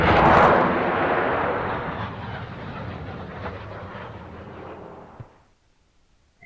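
Naval gunfire between a Chinese Coast Guard vessel and opposing ships in a South China Sea combat simulation game: a loud opening blast followed by a sustained rumbling barrage that fades out, with a short sharp report at the very end.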